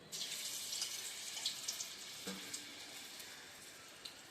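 Mutton keema balls deep frying in hot oil, a steady, fairly faint bubbling hiss with small crackles and no talk over it.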